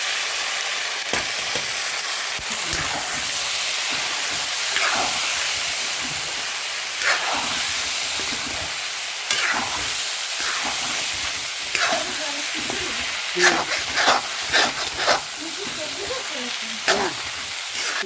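Broken wheat (dalia) going into a hot pan with fat, giving a constant loud sizzle broken by repeated scraping and stirring strokes, with occasional louder crackles as the grains are moved around.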